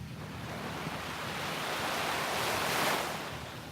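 Ocean waves wash up on a beach in a steady hiss of surf that swells and fades, with some wind noise and no talk.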